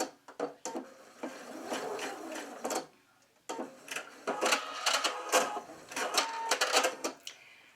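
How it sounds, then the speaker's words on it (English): A sewing machine runs in stitching bursts along the edge of fabric for a teddy bear, a close, busy mechanical clatter with rapid ticking, pausing briefly before restarting and running on, with faint incidental noises. "I'm just going to sew right along that edge"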